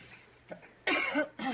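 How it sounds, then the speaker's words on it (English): A person with a cold lets out one faint small throat sound, then two loud, harsh coughs in quick succession, close to the microphone with no talk over them. "I have a little cold, guys, so I might be coughing"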